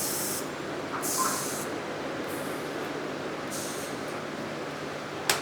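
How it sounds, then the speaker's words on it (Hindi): A motorcycle fuel injector sprays under bench test in short hissing bursts, a few spaced pulses over a steady background hiss. "यहाँ पे मैं क्या करता हूँ, यहाँ पे इंजेक्टर ऑन कर देता हूँ"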